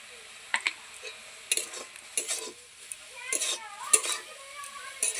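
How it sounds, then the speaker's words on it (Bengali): Spinach being stirred in a pan, a series of sharp metal spatula scrapes and clinks against the pan at irregular intervals over a faint sizzle. "শাক ভালোভাবে নাড়াচাড়া করে সিদ্ধ করে নিতে হবে।"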